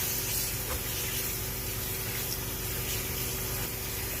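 Water runs steadily from a tap or hose as a tie-dyed shirt is rinsed, a constant close rushing spray with a low pump-like hum underneath, no talking.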